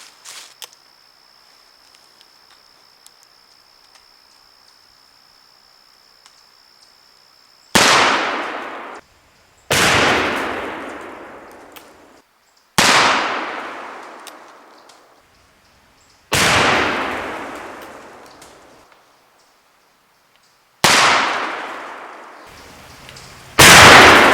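A Uberti Remington revolving carbine fires paper cartridges outdoors: five loud, sharp shots spaced a few seconds apart, each followed by a long echoing decay, after a quiet stretch with a faint steady whine.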